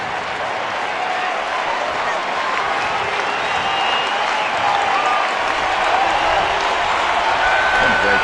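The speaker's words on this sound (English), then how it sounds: "It's a loud crowd today." A loud baseball stadium crowd in the top of the ninth inning roars and applauds in a steady, dense wash of cheering and clapping, distant and continuous, with a commentator's voice faintly beneath.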